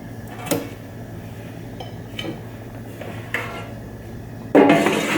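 Crumpet and sausages are served onto a plate in a kitchen, giving a few sharp clinks and clatters of cutlery and crockery spaced over several seconds, ending in a louder scrape and knock.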